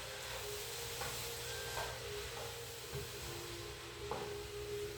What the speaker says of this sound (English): And I'm going to add the mushrooms. Okay, and now I'm going to mix it.